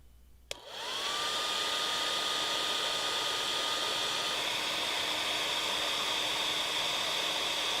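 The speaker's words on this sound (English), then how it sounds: "we will heat both ends of the tubing with either a heat gun or a hairdryer" A heat gun or hair dryer switches on with a click and a rising whine, then blows a loud, steady rushing hiss with a faint tonal hum while warming the ends of silicone tubing.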